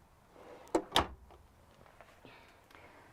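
Sock drawer in a 2017 Thor Synergy TT24 travel trailer sliding shut, two quick close knocks followed by a faint scrape, quiet room otherwise.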